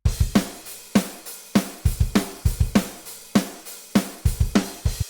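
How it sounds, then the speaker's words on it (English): Programmed pop punk drums with open hi-hats at varied velocities, a steady pattern of kick and snare hits under shimmering cymbal wash, each hit decaying evenly with no one speaking. "When you've got the open hats, you can be quite dynamic with the velocities like I have done here."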